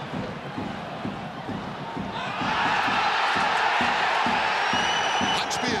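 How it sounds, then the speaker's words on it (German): Football stadium crowd at VfL Osnabrück versus Borussia Dortmund II protesting a handball, a roar swelling midway into a loud, sustained outcry under a German commentator's voice. "Handspiel wird da hier moniert von den Zuschauern"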